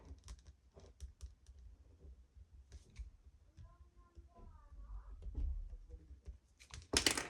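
Quiet keyboard typing as a sentence is entered, soft scattered key clicks in uneven bursts, with a brief faint voice in the middle and a louder rustle at the end.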